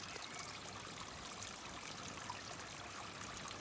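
Water trickles through a garden pond stream near its drop into the pond, a soft, continuous, even babble with no pauses or voices.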